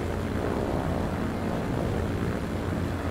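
A propeller airplane from the 1928 era takes off in the video game Transport Fever, its engine giving a steady, loud, dense drone that holds level throughout with no talk over it.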